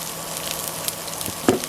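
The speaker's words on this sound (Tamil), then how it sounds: "இது பெருஞ்சீரகத்தை போட போகிறோம். கொஞ்சம் முருகட்டும், வெங்காயம், வெங்காயத்தை போடுறோம்." Fennel seeds and onions frying in oil for a mutton curry, a brief steady sizzle nearby with a few light clicks and one sharper clatter near the end, no talk.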